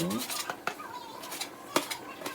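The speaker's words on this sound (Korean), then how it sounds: "육수에 무와 토란을 넣고" Chunks of radish and taro dropped into broth in a metal pot, a few sharp clattering knocks and scrapes of a utensil against the pot, with a bright ringing tone at the start.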